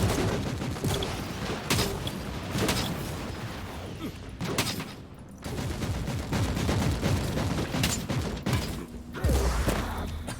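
Many enemies firing autoguns in the video game Warhammer 40k: Inquisitor - Martyr create a dense, continuous crackle of overlapping shots and bursts, with thuds and impacts mixed in and a short lull midway.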